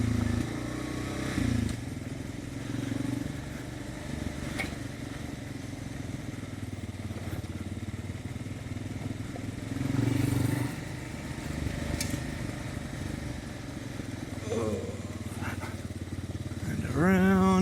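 A 2023 Kawasaki KLR 650 motorcycle holds a steady engine drone while downshifting into a corner, with a few brief revving swells and a rising whine near the end, under a rider's voice.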